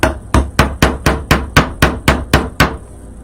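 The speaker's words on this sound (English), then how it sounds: "Oh, got to keep hammering it." Ten sharp, evenly spaced hammer strikes drive a nail into a wooden sign close by, steady and loud, then stop, leaving a quiet tail.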